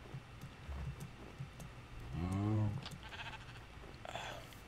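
A pink sheep in a video game lets out a single clear bleat midway, loud and close, among faint game clicks and background sounds.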